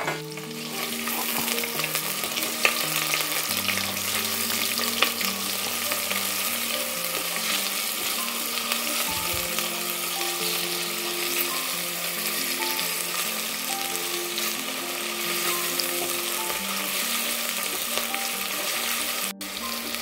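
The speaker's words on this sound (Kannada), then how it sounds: "ಈರುಳ್ಳಿಯನ್ನು ಇದರೊಳಗಡೆ ಹಾಕಿ ಇದನ್ನು ಕೂಡ ಫ್ರೈ" Medium-size onions sizzling in a pan while cooking for a tomato rice dish, a steady loud frying hiss with occasional stirring scrapes throughout, no talking.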